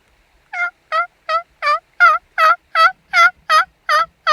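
Wild turkeys near a creek call in a quick series of about ten clear, evenly spaced yelping notes, loud and close against otherwise quiet surroundings.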